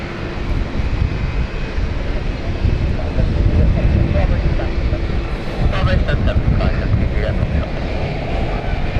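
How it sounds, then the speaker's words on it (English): A British Airways passenger jet arriving from Florence roars steadily on approach at London City Airport, a broad continuous rumble mixed with wind buffeting on the microphone. "Coming in right now is the Florence flight from British Airways"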